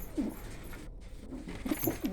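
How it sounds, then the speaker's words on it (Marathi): Soft, low pigeon coos come in a few short bursts, fairly close, over a faint steady background hum. "अशा प्रकारे कबूतर आहेत"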